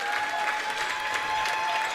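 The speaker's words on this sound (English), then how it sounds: "she gets a nice round of applause from the Highmore-Harrold faithful" Sustained applause from a home crowd of supporters at a SoDak 16 high school girls' basketball game, a steady dense clatter of clapping filling the gym with no break across the clip.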